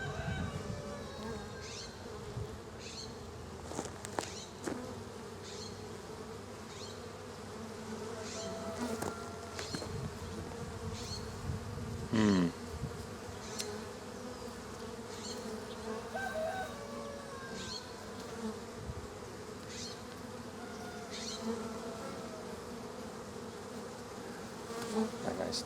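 Bees buzzing around an opened hive during an August split inspection, a dense continuous drone with individual insects passing close to the microphone.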